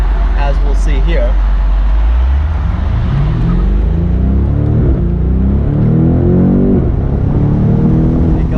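A 2020 BMW M850i Convertible accelerates hard, its engine note rising steadily through the gears in a loud, close rumble heard from inside the car, with a person talking over it.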